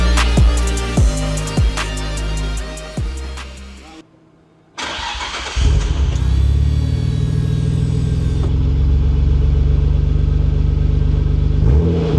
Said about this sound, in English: this isn't supposed to be some super loud exhaust